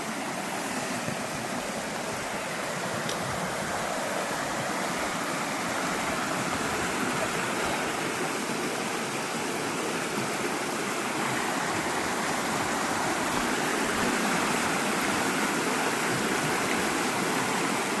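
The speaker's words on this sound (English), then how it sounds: "that water is running fast right there" Fast-running creek water rushing through a ford, a steady, dense broadband roar that stays close and constant throughout, with no voices over it.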